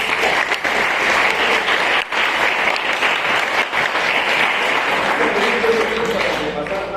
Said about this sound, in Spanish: Ok, un aplauso por los chicos.